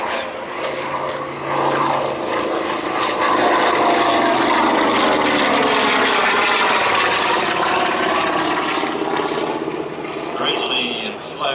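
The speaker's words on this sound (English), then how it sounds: "this was the heaviest single-engine World War II aircraft" A single-engine World War II fighter's propeller engine drones loudly and continuously nearby at an airshow display, its pitch shifting slightly as it passes, with voices talking underneath.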